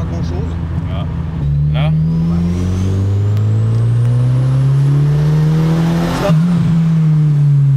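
A Volvo fitted with a cheap Chinese turbo and a Proweld turbo kit accelerates hard, the engine note climbing steadily alongside a rising turbo whistle before cutting off abruptly. A voice speaks briefly at the start.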